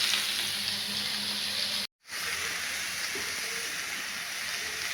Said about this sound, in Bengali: গাজর ভাজছি।